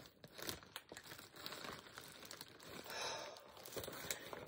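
Plastic bag crinkling and rustling continuously as an item is cut free from it, close and fairly quiet, with irregular crisp crackles and no talking.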